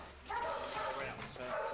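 A dog barks and yips at racing greyhound kennels, a few close, sharp calls in quick succession with some whimpering in between.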